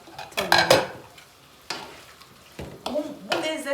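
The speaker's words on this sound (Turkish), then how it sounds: "Pilavımızın da tuzunu bıraktıktan sonra şöyle gördüğünüz gibi bir karıştırayım tekrardan." A spoon stirs rice pilaf with cherry tomatoes and green pepper in a pot, giving close scraping and clinking bursts in an uneven rhythm with brief pauses between strokes.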